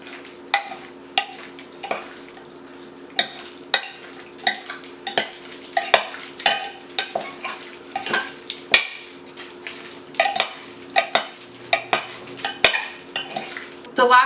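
Ingredients being mixed with a couple tablespoons of oil in a pan for Thai basil tacos, a series of sharp spoon-on-pan scrapes and clacks at an irregular rhythm, close and alone.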